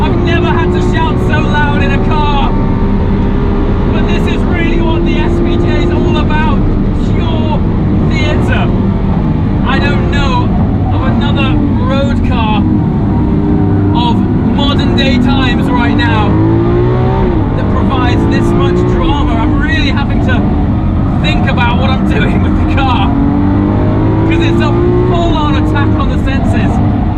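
A Lamborghini Aventador SVJ V12 roaring around a race track, loud and close from inside the cabin, pitch climbing and dropping through gear shifts, with someone talking loudly over it.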